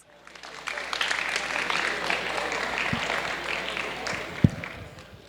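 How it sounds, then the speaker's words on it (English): Audience applause fills an awards ceremony hall at the Yvonne Awards 2026 in Chicago, a steady wash of clapping that swells and holds for several seconds, with one sharp louder clap near the end. "Let's give them all another round of applause."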